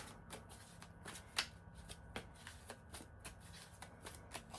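Tarot cards are shuffled in a quick, steady riffle of crisp flicks and snaps, close up and alone with no voices.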